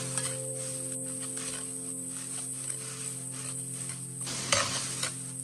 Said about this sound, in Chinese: 油热后下入姜蒜小米辣还有洋葱，开中小火将它们炒香